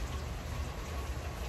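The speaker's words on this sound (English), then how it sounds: "It's currently raining outside, man." Steady rain falls outside, a soft continuous wash of patter heard faintly and evenly with no voices over it.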